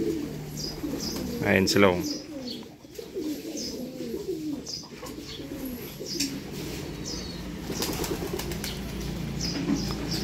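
Stray pigeons coo in low rhythmic phrases, with a burst of wing flapping near the start, while someone talks over them throughout.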